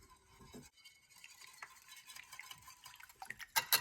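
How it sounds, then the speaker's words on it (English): French toast egg mixture being whisked in a bowl, a steady run of close scraping and tapping strokes with sharper clinks toward the end, no talking. "we're just gonna whisk this all together"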